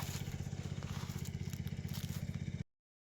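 An engine-driven pump pumps water into a twenty-day-old rice field, chugging in a fast, regular beat. The sound is low and fairly faint, then cuts off abruptly near the end.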